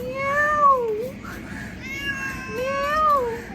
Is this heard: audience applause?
no